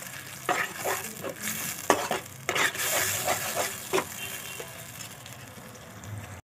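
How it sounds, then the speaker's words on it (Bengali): Tomatoes stir-fried in a pan with salt and turmeric, cooked down until the raw smell is gone, give a steady sizzle broken by repeated scraping strokes of a spatula against the pan. "লবণ দিয়ে দেবো, হলুদ, ভালো করে কষাবো যতক্ষণ টমেটোর কাঁচা গন্ধটা থাকবে, ততক্ষণ ভালো করে কষাতে হবে।"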